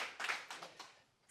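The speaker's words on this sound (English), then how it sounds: "Let's give y'all yourselves just a round of applause" Quiet, scattered hand clapping from a small audience at a county Democratic party general meeting, a few sparse bursts of claps that fade out over about a second.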